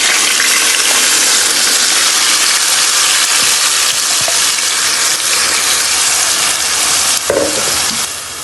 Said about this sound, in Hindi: अब हम इसको फ्राई कर रहे हैं, अब इसको पका रहे हैं।